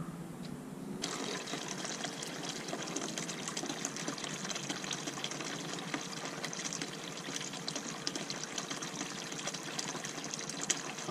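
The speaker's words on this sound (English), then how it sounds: "I'm gonna go ahead and just run all this smaller stuff through the bucket sluice" Water rushes steadily through a bucket sluice as small gravel paydirt is washed over drop riffles, a continuous close gushing and trickling with a faint mechanical hum beneath and no talking.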